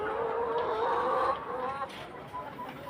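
Layer hens on a poultry farm, being moved into cages, cluck and murmur in a steady close chorus that eases off partway through.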